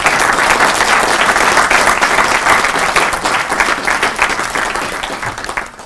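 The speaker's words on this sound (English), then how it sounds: "let's give them another round of applause" An audience at a professorial inauguration ceremony gives a sustained round of applause: dense, loud clapping from many hands that fades slightly toward the end, with no speech over it.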